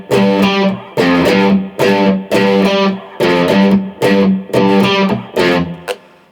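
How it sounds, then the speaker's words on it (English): An electric guitar plays the intro bass line of a song from the Minecraft movie. It comes as a repeated, slightly distorted riff of punchy low notes in a steady rhythm, close and alone. "So that's that little intro bass part"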